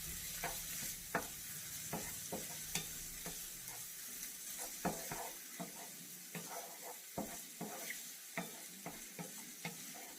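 Chicken teriyaki sauce in a frying pan, stirred with a utensil: quiet, low sizzle beneath a run of regular scraping and tapping strokes against the pan, no one talking.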